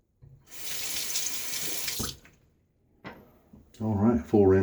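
A bathroom sink tap runs for a full rinse during a wet shave with a Gillette safety razor. The water rushes for about two seconds, a shorter splash follows, and then someone talks close to the mic.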